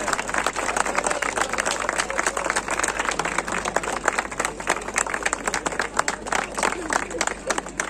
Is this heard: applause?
yes